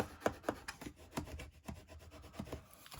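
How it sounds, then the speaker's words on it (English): A bone folder rubs and burnishes the edges of a paper gift box in quick repeated strokes, each a soft close scrape. "then I will take my bone folder and burnish those down"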